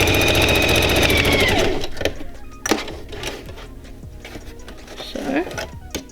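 Sewing machine stitching faux fur, a steady fast mechanical whir for about two seconds, then the motor stops, leaving handling noises and a voice talking.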